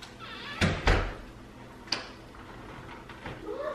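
A door opening as someone comes into a home, a couple of close thuds and a latch knock followed by a softer bump, then quiet room noise.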